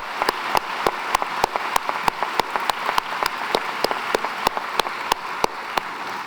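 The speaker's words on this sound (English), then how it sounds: "Let's give them a round of applause." Applause from a school graduation audience: a dense wash of clapping from a crowd, with sharp, evenly spaced louder claps standing out close by throughout.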